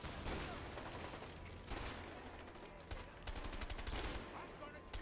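Rifle fire in a video game, rapid clustered bursts of shots throughout, close and dense, with voices faintly underneath.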